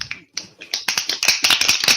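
Sharp finger snaps, first a few sparse ones, then a quickening cluster of crisp, close snaps that grows denser and louder toward the end.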